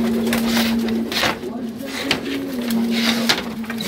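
Pigeons coo steadily inside an enclosed loft, soft repeated murmuring calls under occasional clicks and shuffling, with a voice talking nearby.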